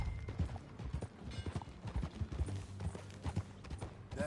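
Rhythmic clip-clop of horse hooves trotting at a steady pace in the video game Red Dead Redemption, fairly close, with a low rumble of movement beneath.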